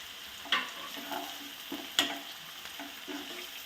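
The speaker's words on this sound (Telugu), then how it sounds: "కొంచెం ఉల్లిపాయలు వేగనిద్దాం" Onions fry in a pan for a Telugu knol khol curry, a quiet continuous sizzle broken by a couple of sharper clinks and scrapes of stirring, with no talking.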